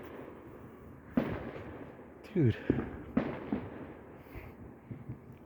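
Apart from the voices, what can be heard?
4th of July fireworks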